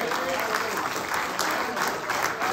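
A church congregation claps in praise during a homecoming service, an even, sustained wash of many hands with a few sharper claps standing out, loud and continuous throughout.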